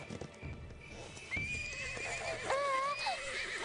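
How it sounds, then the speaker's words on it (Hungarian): A horse gives a wavering, high whinny, close and clear, with soft hoof clip-clops and background rustle beneath it. "Csendesítsd le a lovadat, Jakkari!"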